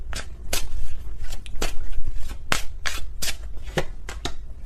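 Tarot cards shuffled by hand at close range, a quick run of crisp riffling bursts and slaps repeating unevenly with no talking.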